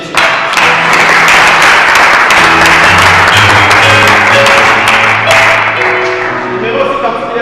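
A church congregation applauds loudly and steadily, with dense clapping that fills the whole stretch and no gaps.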